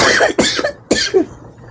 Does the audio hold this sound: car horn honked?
no